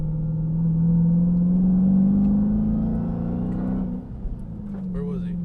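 Dodge Challenger Hellcat engine held at half throttle, a steady deep rumble that swells slightly and then eases off, with brief mechanical noises near the end.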